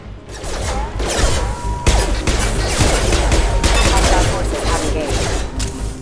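Dense rapid gunfire from Mass Effect 2 played on PC, loud overlapping automatic bursts filling the whole stretch with continuous crackling shots and impacts.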